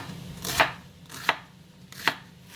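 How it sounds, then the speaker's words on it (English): Three separate knife chops cut a vegetable into bite-sized chunks on a board, each one a crisp, close thwack with a short gap between them over a faint low hum. "then just go back and cut it in bite-sized chunks"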